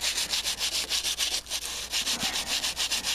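Rhythmic back-and-forth sanding strokes on a car's rear quarter panel, close and steady with brief pauses, with no talking.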